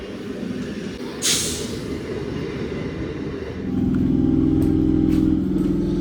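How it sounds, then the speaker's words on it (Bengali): A Shantipur local train pulls into Palpara station at dawn, a continuous rumble with a brief sharp hiss of air near the start, then a louder steady drone as the carriages roll in close. "ভোরের শান্তিপুর লোকাল চলে আসলো পালপাড়াতে"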